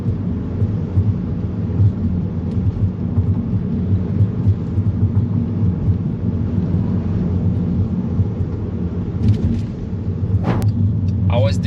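A manual-transmission car pulls away in first gear during city driving, its engine a steady, loud low drone that holds throughout, with a few brief higher mechanical sounds near the end.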